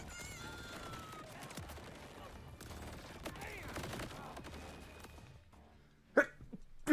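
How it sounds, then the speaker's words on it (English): A person sneezes twice near the end, sharp and close, following a stretch of busy game sounds with gunfire and effects. "I'm about to sneeze again."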